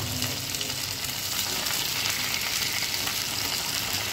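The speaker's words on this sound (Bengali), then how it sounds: "এভাবে বারবার একটু উল্টে পাল্টে ভেজে নিতে হবে।" Spicy chicken pieces frying in a pan, a continuous close sizzle and crackle of hot oil at steady loudness with no talking.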